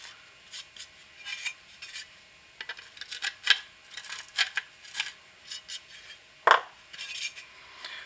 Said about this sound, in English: Maybe we want to deburr this too a little bit here.